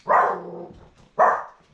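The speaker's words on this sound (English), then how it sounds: "Puppies! Look at these puppies." A puppy barks twice, loud and close, each sharp yelp trailing off into a short whine, with a brief pause between the two.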